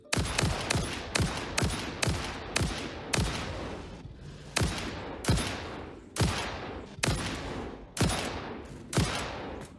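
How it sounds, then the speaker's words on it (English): Rifle gunshots in the video game Satisfactory sound as a long run of loud, sharp blasts, each with a short decaying tail. They fire at a steady, rapid pace with a brief pause partway through. "Okay, I finally got it, but that took too many shots."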